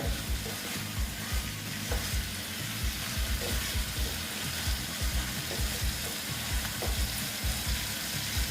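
Snake gourd stir-fried in a pan, giving a continuous soft sizzle with a faint hiss and the scraping rhythm of stirring throughout, quiet and close.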